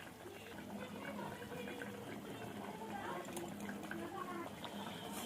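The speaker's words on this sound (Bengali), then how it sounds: "ঝোলটা ফুটে উঠেছে" Curry broth for spicy jackfruit curry bubbling steadily in a pan, a continuous close burble and simmer with someone speaking over it.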